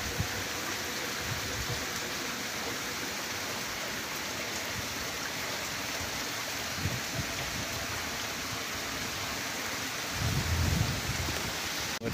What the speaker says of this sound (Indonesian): Hujan dari sana itu hujan gede nih